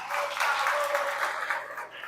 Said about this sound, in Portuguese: Uma salva de palmas para o Paulo.